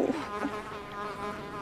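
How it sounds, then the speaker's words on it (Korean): A housefly buzzing near the microphone outdoors in a forest setting, a thin droning hum with wavering pitch that stays close and fairly quiet, with no talk over it. "그 파리가 날아다니니?"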